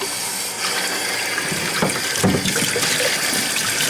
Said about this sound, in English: You can actually just hose it off in there